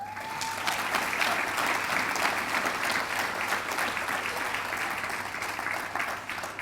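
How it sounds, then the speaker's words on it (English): A hall of fame induction ceremony audience gives a sustained round of applause, a steady, even roar of many hands clapping that holds at constant loudness for several seconds with no voices over it. "So give Brianna a great round of applause for her career."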